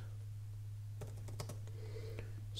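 Thin backlit Microsoft Surface 2 Type Cover 2 keyboard being typed on, a brief run of soft, close key taps over a steady low hum in a quiet room.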